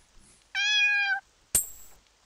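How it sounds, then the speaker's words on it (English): A single clear cat meow in the video game Kyo Oni, followed by a sharp bright chime-like game effect, both alone against near silence. "let's give the cat the fish"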